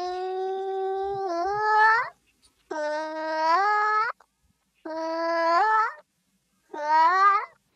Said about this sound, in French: nous avons réalisé un morphing de sons associant le miaulement d'un chat et les